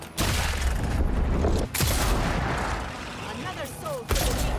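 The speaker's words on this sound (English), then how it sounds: "I am not shooting well" Gunfire in the video game Avowed, dense loud bursts of blasts and rumbling booms in quick succession, with brief pauses between volleys.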